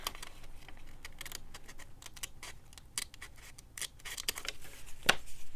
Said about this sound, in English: I'm just gonna use my scissors for that.